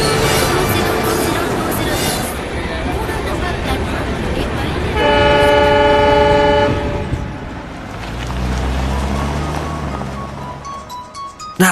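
A train pulls away from a station, its loud horn blaring steadily for a couple of seconds before the low rumble of the moving train builds underneath, with voices and station bustle around it.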